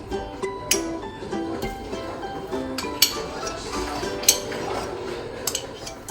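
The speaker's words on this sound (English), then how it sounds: "Now we're gonna scrape the rest of the butter." A utensil scrapes butter from a bowl with soft scraping and light clinks of metal against the dish, quiet and close, with occasional sharper taps.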